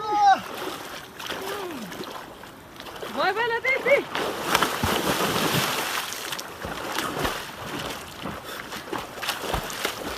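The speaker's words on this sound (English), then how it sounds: "The ducks actually refused to go in the water until volunteers started throwing them in." Rescued ducks splash repeatedly into water after being tossed in, with loud splatters and sloshing alongside rising and falling calls, close and busy throughout.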